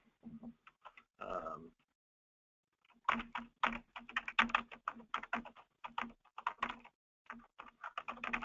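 Rapid typing on a computer keyboard, with quick bursts of keystrokes after a short pause, close and clear with no talk over it.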